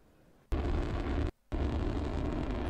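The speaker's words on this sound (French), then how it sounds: "la fusée a tellement tapé dans l'eau qu'en fait, ça fait que l'explosion est assez brutale" Isar Aerospace Spectrum rocket explodes on hitting the water: a sudden loud broadband roar of blast and rumble that cuts in abruptly, drops out briefly, then resumes at full strength.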